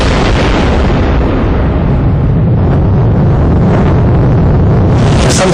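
A loud, dense explosion rumble standing in for a solar eruption on the sun, a continuous roaring blast that fills the whole span without pause.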